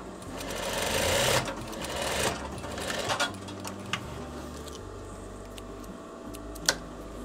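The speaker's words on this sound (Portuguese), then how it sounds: "Então você pode rebater com um pesponto aqui na boca do bolso." Sewing machine stitching a topstitch along the pocket opening of a veterinary coverall, running in loud continuous bursts that ease off, with a few clicks and a sharp tick near the end.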